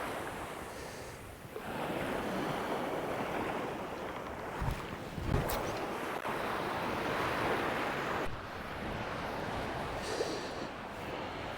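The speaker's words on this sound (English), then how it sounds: "that wind's a bit nasty" Strong wind buffets the microphone on the Bristol Channel shore at Minehead, a steady loud rushing roar with heavier gusts and thumps midway, surf washing faintly beneath it and no talk.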